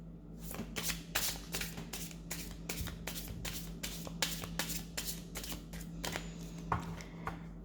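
A deck of cards is shuffled over and over, the riffles forming a quick, rhythmic series of crisp rustling bursts up close, with a low steady hum underneath and no voices.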